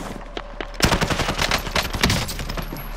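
Rapid automatic gunfire in Call of Duty Warzone, close and loud, rattling off in dense irregular bursts that sound like machine-gun fire, with a faint tone before the shooting starts.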